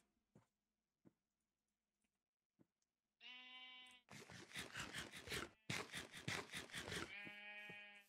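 Sheep in the Minecraft video game bleat in a quick series of loud, nasal calls, one long bleat, then a tight run of several choppy ones and a final drawn-out cry, after a few faint clicks.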